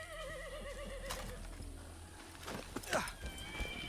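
A horse in Far Cry 6 gives a wavering whinny at the start, then snorts and stamps with a few hoof clops, fairly close and moderately loud, with faint game ambience beneath.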